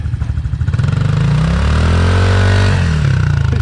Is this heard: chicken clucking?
no